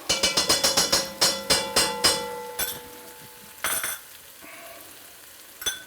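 Garlic and ginger stirred in a hot pan, a rapid run of sharp metallic clinks and scrapes from the utensil against the pan over a soft sizzle, then a few louder isolated knocks as the stirring slows.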